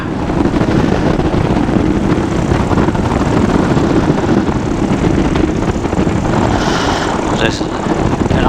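Engine drone of a Sub 70 flexwing microlight at idle on approach to landing, a steady loud broadband hum with wind rush that runs without a break throughout.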